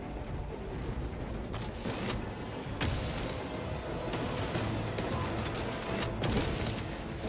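Dense, continuous gunfire and mechanical clatter fill a combat scene in Warhammer 40,000: Space Marine 2, with repeated sharp bursts over a constant loud wash of battle noise.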